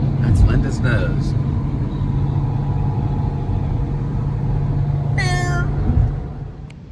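A cat meows in a short rising cry over a steady car engine rumble, with people talking nearby before it.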